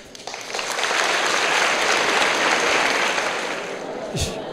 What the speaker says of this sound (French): je vous prie d'applaudir notre monsieur Asokbadjo.